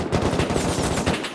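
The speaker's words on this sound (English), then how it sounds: "They're shooting at Origin." Rapid automatic gunfire in the video game Rust, a dense burst of close, loud shots firing in quick succession with no pauses, heard alone.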